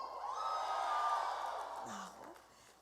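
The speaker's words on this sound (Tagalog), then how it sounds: "Pwede po bang makahirit ng sigaw ng mga tao sa Mindanao?" Audience at a regional training event in Manila shouting and cheering together, a broad sustained crowd roar that swells and then fades over a few seconds.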